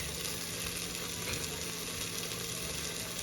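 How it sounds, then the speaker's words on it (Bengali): Green chilies fry in oil inside a pressure cooker for Puran Dhaka tehari, producing a steady, close sizzle with no pauses. "ঝাল ভাজা হয়ে যাচ্ছে"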